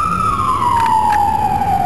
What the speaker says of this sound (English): Notice how the cars move out of the way to let the ambulance go by.